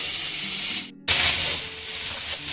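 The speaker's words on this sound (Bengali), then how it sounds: "আর দেখুন ভাজা হয়ে যাচ্ছে" Potatoes and onions sizzle and spit in a hot pan after salt goes in, a loud steady hiss that cuts out for a split second, then surges back even louder before settling into a constant close fry.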